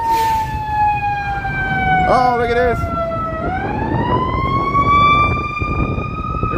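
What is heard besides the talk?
emergency vehicle siren passing on a Chicago street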